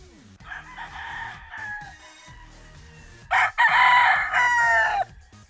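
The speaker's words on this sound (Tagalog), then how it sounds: "manok ng kapitbahay" A neighbor's rooster crows close by, one long drawn-out call followed by a louder second crow, clear and without talk.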